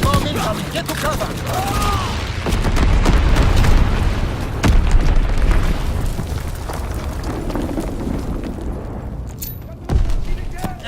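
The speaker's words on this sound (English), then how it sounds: "Enemy bomber! Incendiary bombs incoming! Enemy bomb incoming!" Incendiary bomb blasts in Call of Duty WW2 multiplayer, a dense run of loud booms and gunfire rumbling together throughout, with a sharp burst near the end.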